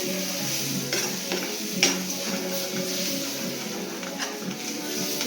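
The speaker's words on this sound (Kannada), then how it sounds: "ಮೊಟ್ಟೆ ಹಾಗೆ ಮಿಕ್ಸ್ ಮಾಡ್ಕೊಳ್ಳೋಣ" Beaten eggs being stirred in a hot pan for mote palya, a steady sizzle with repeated scraping strokes of the spoon against the pan, close and fairly loud.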